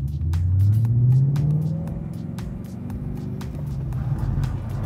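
A car drifts with handbrake and clutch, its engine rumbling and revving up and down from inside the cabin, with sharp ticking clicks scattered throughout.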